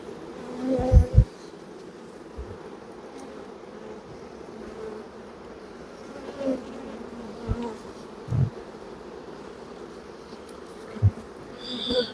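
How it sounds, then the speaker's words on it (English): Bees swarm close around a beekeeper working an open hive, their dense buzz droning continuously, with individual insects zipping loudly past the microphone every few seconds. "Sorry if you can't hear me because of a flying bee."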